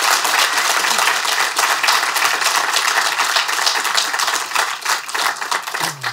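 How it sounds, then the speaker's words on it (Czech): An audience at a live stand-up comedy show in Ostrava applauds, a dense, loud, continuous burst of clapping that fades slightly toward the end, with no speech. "To si zaslouží potlesk."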